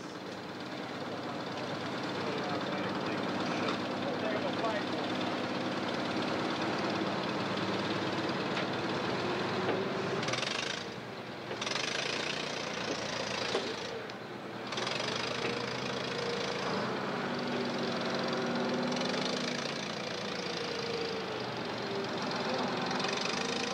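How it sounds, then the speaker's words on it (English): A backhoe labors through deep mud at a Flxible bus rally, its diesel engine a steady, dense rumble that holds without a break, with a couple of brief dips in the middle. "The backhoe moves on to another coach in distress"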